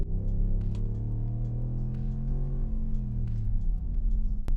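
A 2027 Ram 1500 Lone Star's 395-horsepower Hemi V8 with mild hybrid system accelerates, a steady loud low rumble whose pitch rises smoothly and then eases off, heard alone without talk.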